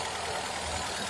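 A 2007 Zhiguli VAZ 2104 estate with an injector engine idles with a steady, even low hum and a faint rhythmic ticking, heard briefly and alone.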